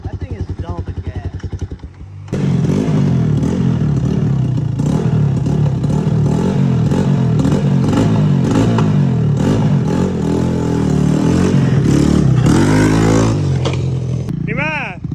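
A used three-wheeler ATV engine, leaking fuel, idles unevenly at first, then jumps into a loud, steady, close running roar with repeated revs and a rattling clatter before it cuts out, while people talk over it.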